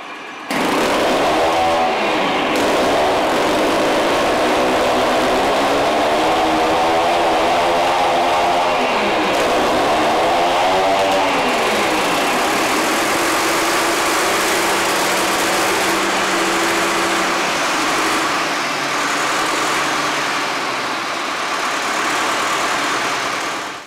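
A Niva SK-5M1 combine harvester engine is started by its starter motor and pony engine, a loud continuous mechanical roar whose pitch sweeps up and down in the first seconds, then settles into a steady run with no talk.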